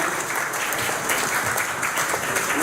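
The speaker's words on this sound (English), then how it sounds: "Give yourself a round of applause for this good turnout tonight." Applause from an audience at a community meeting in Negril's community centre, a dense, steady wash of clapping that holds at an even level for the whole stretch, fairly close and with no voices over it.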